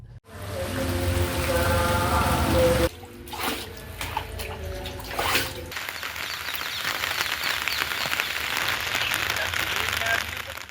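Heavy rain falls during a storm that floods roads and houses in Beruwala, a steady loud hiss of downpour and drips, broken by a short quieter stretch before the rain resumes strongly.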